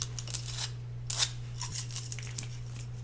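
Scissors snip through hair in a quiet ASMR role play, a few crisp close-up cuts spread over a few seconds against a steady low hum, with no talking.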